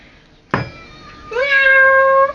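A house cat gives a loud, close meow after a sharp bump, a drawn-out tonal cry that holds for nearly a second before cutting off, alone in a quiet room.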